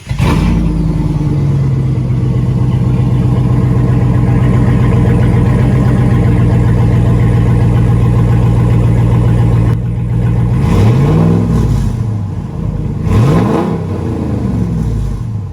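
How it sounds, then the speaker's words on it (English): A Ram 1500 truck engine with no muffler idles with a loud, steady rumbling drone close by, then gets two or three quick throttle blips near the end that rise and fall sharply. "I'll play a clip here real quick with no muffler in case you're curious how that sounds."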